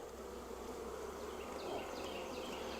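A honeybee swarm being prepared for relocation gives a steady, even buzz that fills the air, close around the listener and fairly quiet, with no talk over it.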